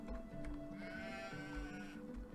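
Sheep bleating in the Medieval Dynasty game, a few short wavering calls at moderate distance over faint background music and ambience.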